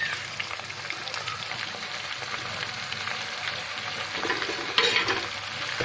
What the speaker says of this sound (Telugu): బాగా కలుపుకోవాలి. కలుపుకుంటూ చికెన్ వేయించుకోవాలి.